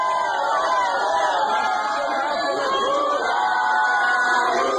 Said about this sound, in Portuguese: Esse é o Bolsonaro sendo barrado. Sendo barrado não, perdão, sendo vaiado.